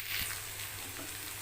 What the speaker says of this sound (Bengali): এটা একটু হালকা হালকা ফ্রাই হবে।